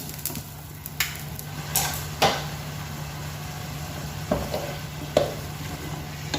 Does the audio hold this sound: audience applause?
no